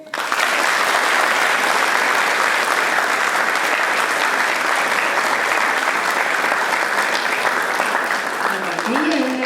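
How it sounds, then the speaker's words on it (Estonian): Audience applause at a school graduation ceremony, a dense and loud sustained roar of many hands clapping that fills the hall without a break, tapering slightly at the end. "siis te võite ühe suure aplausi teha"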